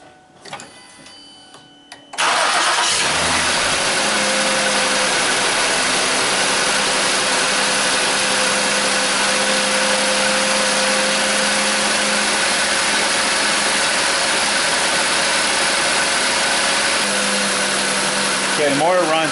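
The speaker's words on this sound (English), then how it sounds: "Okay, the motor runs, it's sounding better." A Ford Edge 3.5L engine cranks and starts after a spark plug replacement, then settles into a loud, steady idle hum that runs continuously to the end.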